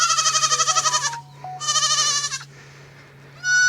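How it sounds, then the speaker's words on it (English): Mini Nubian and fainting goat cross kids bleating loudly nearby, two long wavering cries one after another and a short third cry starting at the end, over a low steady hum. "those are mini Nubian mixed with fainting goats"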